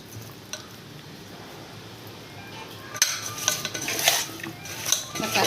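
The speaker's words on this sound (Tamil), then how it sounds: "இந்த இதிலெல்லாம் நல்லா மசாலா ஊறுற மாதிரி பிரட்டி வைங்க" Pieces of fish being tossed and coated in masala in a bowl, with soft scraping and clinking of utensils against the dish that turn busier and louder in the second half.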